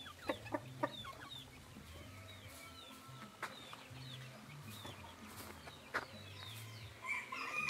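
Naked neck chickens clucking around a small rural farmyard, with scattered sharp clucks and calls and a rooster crowing in the distance, fairly quiet overall.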